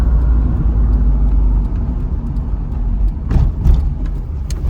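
A stock Nissan 240SX is driven on a curvy road, its low engine and road rumble steady and loud throughout, heard from inside the car, with a few brief thumps and surges late on and no talking.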